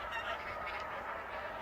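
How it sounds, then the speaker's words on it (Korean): A flock of migratory winter birds, likely geese, honks over farmland in a continuous distant chorus of overlapping calls with no talking. "겨울 철새들이 저렇게 왕림해서 한바탕 군무를 주어주는군요."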